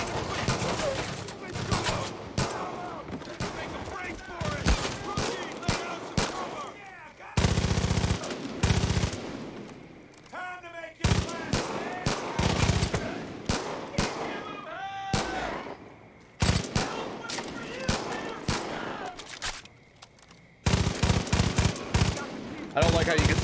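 Rapid bursts of heavy-kicking weapon fire in the Far Cry 5 video game, loud close volleys and sustained automatic rattles separated by brief gaps, with a voice talking in between.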